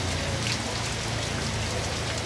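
Rain falls at night in a steady, even hiss of drops on surfaces, close and continuous, with no voices.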